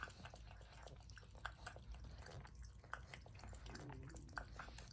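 A pet cat laps water loudly at its bowl, close by, with soft irregular wet clicks and drips repeating over several seconds and faint background noise.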